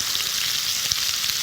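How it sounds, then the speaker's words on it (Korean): Pork belly sizzles and fries steadily in a pan for a Korean stir-fry with webfoot octopus, a dense, continuous crackle close up with no voices. "삼겹살을 먼저 볶아주게 되면은 풍미가 더욱더 살아난다고 합니다"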